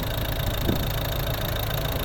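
A 2012 Volvo V50 1.6 D2 diesel engine idles steadily nearby, a continuous low rumbling drone with a slight knock and no voices.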